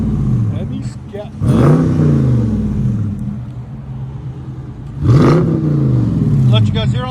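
A Dodge Charger Scat Pack Hemi V8 revs loudly up close, with two strong rises in engine pitch that settle back to a deep idle rumble, while a person talks over the engine.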